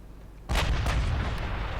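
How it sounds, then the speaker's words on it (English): A naval gun fires in the warship game Ultimate Admiral Dreadnoughts, one sudden loud boom out of a quiet lull, followed by a long rumbling roll that holds on to the end. "We are firing."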